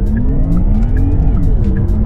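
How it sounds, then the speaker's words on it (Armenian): A Porsche Taycan GTS electric car pulls away hard under launch control, with a loud rising electric motor whine and tire noise close by, building steadily as it accelerates. "launch control ենք անում"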